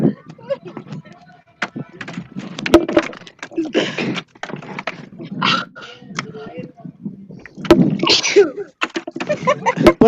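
A single sneeze rings out during an outdoor Druid spring equinox gathering, amid scattered chatter and rustling, with people talking nearby.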